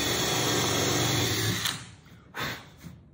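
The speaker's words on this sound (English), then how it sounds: "Countersink that a bit." A power drill countersinks a hole in sailboat rudder hardware, a steady whirring for about a second and a half, then two short bursts after a pause, close by and with no talking.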